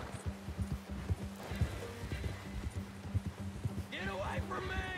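A horse gallops in Red Dead Redemption II, rhythmic clip-clop hoofbeats running throughout, with a whinny near the end and a voice talking over it.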